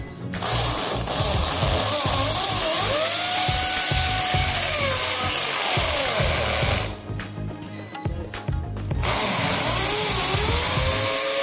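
An electric drill bores into a wall during an air-conditioner installation, a loud, steady high-pitched whine with a gritty grinding edge that pauses briefly partway through and then resumes at full strength.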